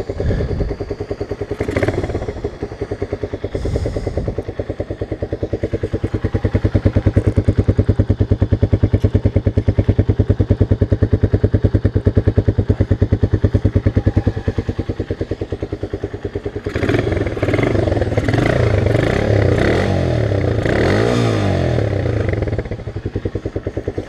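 A Romet K 125 motorcycle engine idles steadily with a dense rhythmic putter, then revs up louder toward the end; some clatter and knocks nearby.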